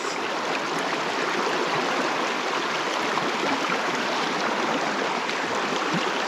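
A small stream's current flows steadily nearby in a continuous, even rush and trickle of water, with no voices present.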